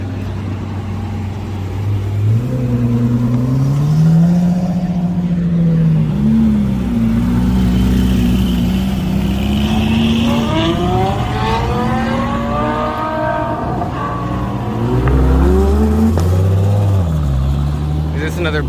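Several GT sports cars accelerate away at a racing school in Chandler, Arizona, their engines revving and rising in pitch one after another. The sound is loud and close, with people talking over it throughout.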